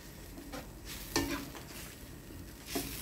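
Misua noodles and vegetables are stirred in a pan, with a soft background sizzle broken by a few sharper scraping strokes, quiet and close.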